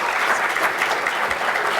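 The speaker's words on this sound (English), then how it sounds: "How about a round of applause for our great students?" Audience applause at an early college high school pathway symposium, a steady wash of many hands clapping together for a short burst without any speech over it.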